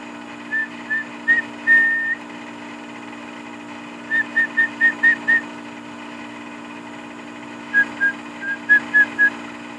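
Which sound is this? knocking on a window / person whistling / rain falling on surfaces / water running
person whistling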